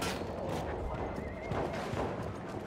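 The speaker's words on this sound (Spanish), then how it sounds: "¿Por qué escucho un caballo?" A horse whinnies in a long, shaky call in the video game Battlefield 1, with faint hoof clip-clops and busy background noise around it.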